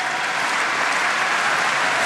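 Crowd at the 2012 World Team Table Tennis Championships in Dortmund, China versus Germany, applauding Dimitrij Ovtcharov in a dense, steady wash of clapping that fills the hall without a break.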